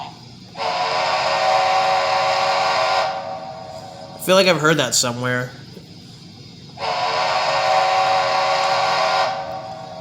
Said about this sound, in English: Great Northern 5 chime.